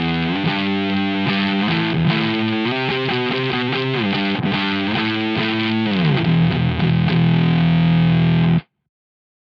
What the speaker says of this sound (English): Big Fuzz Albion amp, which is clearly a British Marshall amp